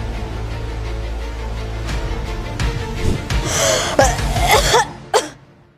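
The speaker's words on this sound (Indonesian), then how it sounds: "Batuk mulu, cepat minum." A run of harsh, close coughs and gasping breaths, growing louder toward the end before fading out, with no talk over them.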